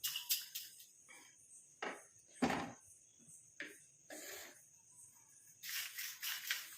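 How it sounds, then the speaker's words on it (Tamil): Coconut, curry leaves and black cumin roast in a pan, giving off scattered crackles and pops in irregular bursts, some close and sharp, with quieter gaps between them. "பாருங்கள் எந்த அளவுக்கு கலகலன்னு சவுண்டு கேட்குது பாருங்கள்."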